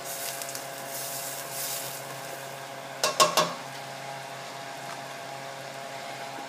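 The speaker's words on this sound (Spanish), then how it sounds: "Y la cebolla. Vamos a dejar así tronar un poquito." Chopped onion sizzles in a pot for broccoli and cheddar soup, a soft steady frying hiss under a few quick clinks of a utensil against the pot midway.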